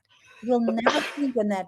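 A single short sneeze bursts out in the middle of a man's ongoing speech, close and brief.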